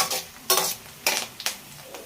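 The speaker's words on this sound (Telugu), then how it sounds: "ఇవి మొత్తం బ్లాక్గా అయిపోయేదాకా ఇలాగే వేపుకోవాలి సిమ్లో పెట్టుకొని" Hair-growth oil ingredients sizzle in a pan over a low flame, with a utensil stirring and scraping in four distinct bursts over a constant soft frying hiss.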